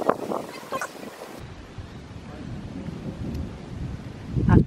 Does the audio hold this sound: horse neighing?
no